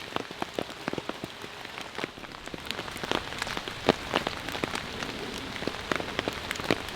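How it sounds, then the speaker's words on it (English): Rain patters on the fabric of a one-person Catoma Stealth 1 tent, a dense irregular drumming of sharp close drops over a constant soft hiss, heard alone without voices. "it has been raining a lot"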